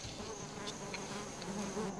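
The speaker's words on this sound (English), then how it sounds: "His pawing and scratching at the entrance arouses the bees." Bees swarm out of a hive inside a marula tree, a dense, steady buzzing drone close by with individual insects flying past.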